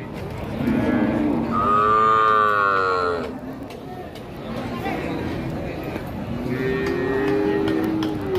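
At a cattle market, a cow with her calf lets out two long, loud moos a few seconds apart, close by, over a background of crowd chatter and voices.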